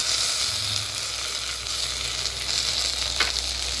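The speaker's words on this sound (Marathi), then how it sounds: "टोमॅटो चांगला परतून घ्यायचा." Chopped tomatoes and browned onion fry in a pan for veg pulao with a dense, even sizzle. The hiss is close and steady, and a faint stir or scrape comes near the end.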